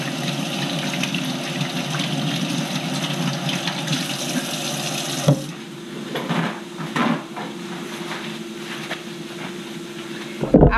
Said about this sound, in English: gotta wash these hands